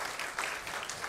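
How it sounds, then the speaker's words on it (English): Brief applause from a conference audience at a Women in Tech Africa event in Mauritius, honouring the iSpace sponsor team; steady, moderately faint clapping across the whole moment. "On peut applaudir à l'équipe de iSpace"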